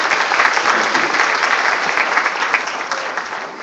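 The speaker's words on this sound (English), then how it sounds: "Give them another big round of applause." Audience applause at an awards evening honoring Who's Who in Black, a dense, steady wash of many hands clapping that holds at a loud level throughout before easing slightly at the end.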